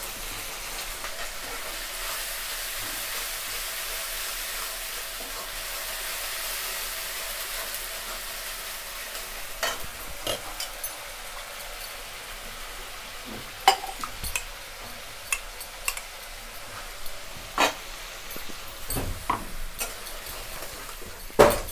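Onions and ginger-garlic paste fry in a pan for Bengali chili chicken, giving a faint, steady sizzle with scattered spoon clicks as spices are stirred in.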